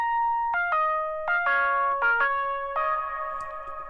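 A dry electric guitar plays a short melodic line of distinct plucked notes without reverb, each attack clean and bright, ending on a longer held note, heard alone.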